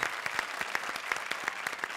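An audience on a TV comedy stage show claps steadily for two seconds, dense moderate applause with no talking over it.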